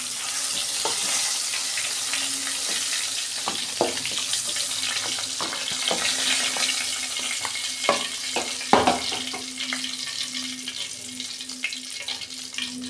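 Bay leaf, cumin, sugar and cardamom sizzle steadily in hot oil in a wok, with occasional sharp clinks of stirring and a faint low hum underneath.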